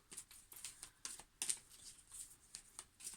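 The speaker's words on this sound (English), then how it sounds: "So just going to give the cards a shuffle" A deck of cards being shuffled up close, a quiet run of soft, crisp riffling flicks in uneven bursts, with no talking.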